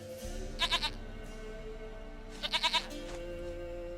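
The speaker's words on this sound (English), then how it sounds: "Goat of mine, dearest, sweetest goat." A goat in The Witcher 3 bleats twice, each a quick wavering three-pulse call, close and clear over a low ambient game background.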